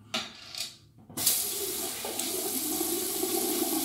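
Tap water runs steadily from a faucet into a sink while wetting shaving soap, a brief splash first and then a continuous close rush of flow.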